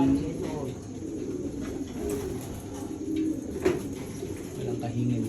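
Racing pigeons at a loft coo softly and continuously after a training flight from Lucban, Quezon, with faint background noise and low voices.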